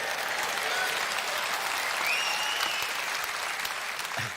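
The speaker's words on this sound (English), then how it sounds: "Yeah, you can clap for that as well." A conference hall audience at a Reform UK party conference claps in a thick, sustained wash of applause that stays full and steady throughout, with no voices rising above it.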